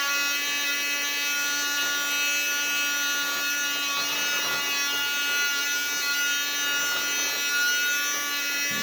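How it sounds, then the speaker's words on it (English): A small handheld vacuum runs continuously at a high, steady whine near a model railway layout with metal shards on the track, loud and close, with no talk. "just give it a bit of a hoover, even with little handheld hoover."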